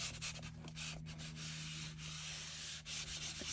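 Paper being burnished flat by hand while assembling a paper pad, a steady close rubbing and scraping that runs throughout with brief pauses and a low hum underneath.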